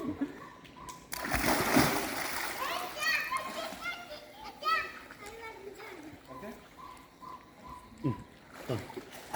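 Water splashing and churning as a swimmer jumps in and moves through it to rescue a drowning person, with children's voices and talk mixed in throughout.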